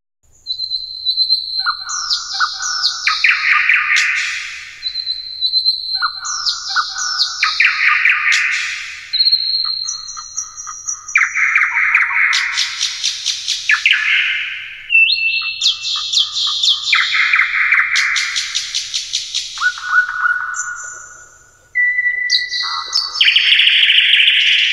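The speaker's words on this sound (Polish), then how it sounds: "I słowik zaczął śpiewać." A nightingale sings alone in loud, close, bright phrases of whistles, trills and rapid chirps, each burst separated by short pauses.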